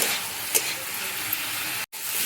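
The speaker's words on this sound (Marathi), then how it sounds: "त्यासाठी आपण चांगलंसं 1-5 मिनिट आहे ना आपण हे परतून घेऊया." Masala for a paneer bhaji sautés in a pan with a loud, steady sizzling hiss, a couple of soft stirring scrapes, and a brief cut to silence near the end.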